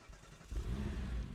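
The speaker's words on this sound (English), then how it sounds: "when you start the car it sounds nice" A Crown Victoria car engine in the video game Deadmatter turns over and settles into a steady low rumble, close and moderately loud after a brief quiet start.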